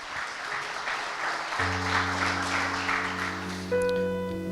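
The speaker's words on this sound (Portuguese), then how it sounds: "Vamos aplaudir Jesus bem forte, irmãos. Pode aplaudir mais forte." A church congregation claps together at an evening service, steady applause that continues as sustained keyboard or organ chords enter partway through and hold beneath it.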